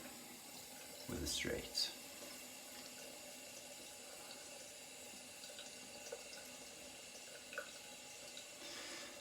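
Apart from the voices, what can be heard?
water tap running, rinsing razor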